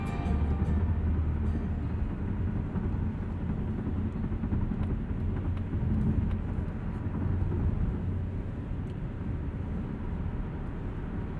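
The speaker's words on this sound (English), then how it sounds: "let you hear what the CX-30 sounds like at speed" Steady cabin road and wind noise inside a 2020 Mazda CX-30 cruising at 70 mph on a wet road: a loud, continuous low rumble with a hiss of spray and wind, unbroken for the whole stretch and with no talking.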